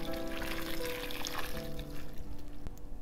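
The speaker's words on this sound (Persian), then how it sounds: "خب این آب جوش رو الان من خالی میکنم روی این ریحونامون" Boiling water is poured over fresh basil in a bowl, a steady splashing pour lasting a few seconds, close and moderately loud with no talk.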